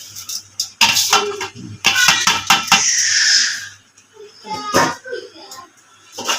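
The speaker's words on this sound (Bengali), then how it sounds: "এখন এটার মধ্যে আমি সম্পূর্ণ চালগুলো এখানে দিয়ে দিলাম।" Washed rice poured into a pot for homemade biryani makes a loud rattling, pattering rush, with scraping metallic clinks of the utensils around it, in short bursts as someone speaks over the cooking.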